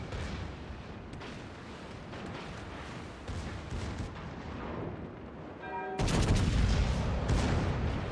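Heavy naval guns firing in the World of Warships video game aboard the battleship V. Veneto, a continuous stream of rumbling booms and distant blasts, growing louder and denser in the final seconds.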